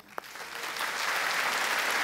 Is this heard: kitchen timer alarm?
no